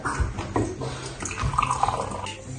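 A mojito pours into a glass in a short, uneven splashing gurgle that rises and falls over a couple of seconds, close by with faint room noise.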